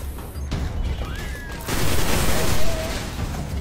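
Gunfire in the sci-fi shooter Destiny, a dense, loud barrage of shots and booms over a continuous roar that swells in the second half, with a faint whine of weapon effects.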